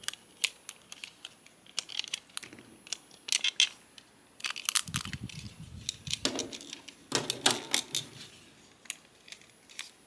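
Plastic hinges on a Transformers Legacy Evolution Voyager Class toy snap together in a run of sharp, close, quiet clicks and clacks, irregularly spaced, with a few brief bursts of handling rattle.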